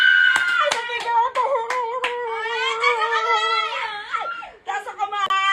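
Several sharp hand claps land early and again near the end, scattered among a child's crying and whimpering and lively talking, the claps short and crisp against the voices.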